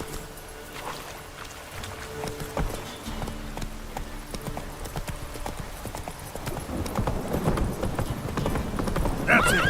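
Roach, the horse in The Witcher 3, galloping with a rapid, continuous clatter of hooves, close and steady, growing busier toward the end, with faint game ambience underneath.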